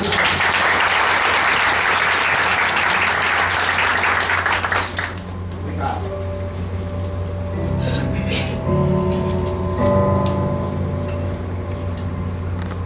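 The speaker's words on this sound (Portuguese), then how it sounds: "Uma salva de palmas para ele." Loud audience applause at a tribute event, dense clapping for about five seconds that stops abruptly, followed by quieter room sounds and faint tonal music or ambience.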